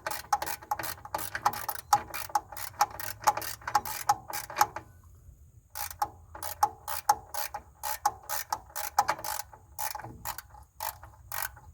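Ratchet wrench working a bolt on a 1991 Chevy Silverado, steady rapid clicking strokes in bursts with a short pause midway, close and clear with no talking.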